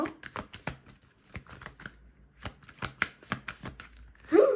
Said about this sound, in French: On va prendre quelques cartes de cet oracle américain.